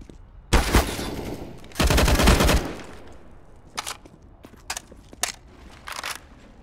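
A flashbang grenade goes off during a CS:GO matchmaking round: two loud, harsh broadband blasts close together, the second longer, followed by several short, sharp pops and clicks from the game.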